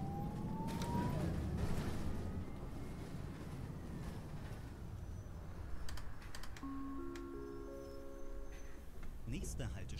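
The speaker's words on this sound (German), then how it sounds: "Der Sound von dem Bus." A Neoplan N4416ZF bus in the OMSI 2 driving game, its engine droning steadily with rising and falling whine, accompanied by keyboard clicks and electronic chime tones, while a person talks over it.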